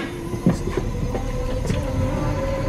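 Riding aboard a Danish train near Copenhagen: a soft, steady rolling rumble inside the carriage with a few light clicks and knocks, faint and even throughout.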